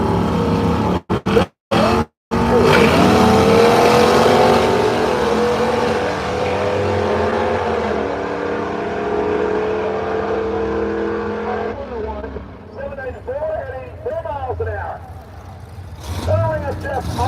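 A supercharged Willys drag race car at Brainerd dragway gives a loud, sustained engine roar with rising revs, after a few brief gaps, while a voice talks over the later part.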